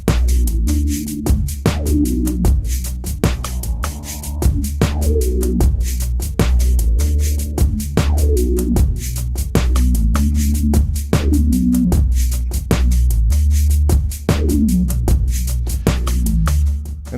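Synth bass line programmed on an OP-XY, a steady looping pattern of punchy low notes with sharp percussive clicks, loud and continuous, with no voices.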